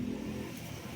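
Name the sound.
motorcycle engine running with timing chain knock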